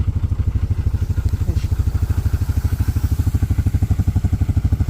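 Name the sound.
four-wheeler ATV engine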